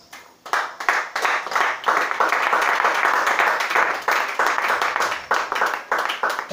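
Church congregation clapping during an Easter service, dense sustained applause of many hands that starts abruptly and swells, with no speech over it.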